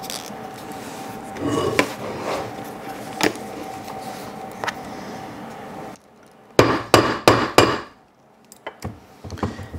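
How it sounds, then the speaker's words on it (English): A hammer strikes rivet setters on a desk to set rivets in a leather dog collar; a quick cluster of sharp, close, loud knocks follows a stretch of quieter rustling and tapping, then silence. "Every time I set rivets on my desk,"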